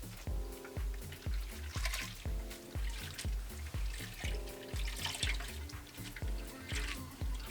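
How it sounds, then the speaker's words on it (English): Running water splashes and trickles steadily as a reborn doll's virgin human hair is rinsed under a flowing stream, with repeated pouring pulses and a low rhythmic thumping running underneath throughout. "Alright, let's get you rinsed off,"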